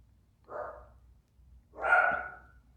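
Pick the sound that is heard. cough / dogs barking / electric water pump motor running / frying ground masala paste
dogs barking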